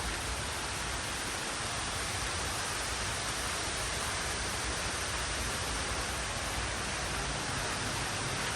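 Steady, dense hiss of heavy rain pouring continuously, loud and even throughout with no pauses or voices.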